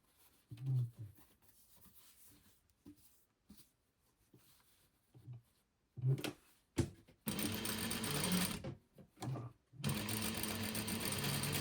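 A sewing machine stitches down one side of a single welt pocket, running in short bursts at first and then in two long, steady, loud runs with brief pauses between them.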